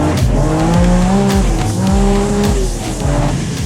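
A supercharged BMW M5 engine pulls hard through the revs, its loud, close, rising drone climbing in repeated sweeps with brief shift dips between them, heard alone.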